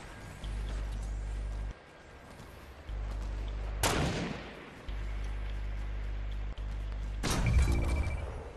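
Gunfire in a Fortnite sniper shootout at Tilted Towers: a few sharp, loud shots crack out several seconds apart over a low steady droning hum and background game noise.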